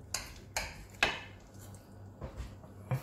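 Knife and utensils working into a tender cooked Cypriot lamb kleftiko, a few sharp separate clicks and taps against the dish spaced out between quiet gaps, close and fairly faint.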